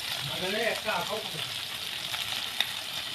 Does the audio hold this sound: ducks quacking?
no